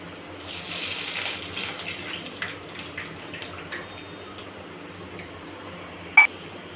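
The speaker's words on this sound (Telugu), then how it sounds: "ఫ్రెండ్స్ 1 గ్లాస్ వాటర్ తీసుకొని ఇందులో పోయాలి." A glass of water is poured into a pan of upma, a soft splashing gush that fades over a few seconds, followed by a brief sharp clink.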